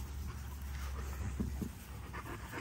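Dogs pant quickly and let out a few faint whimpers close by in a quiet yard, soft short breaths repeating over a low background hum.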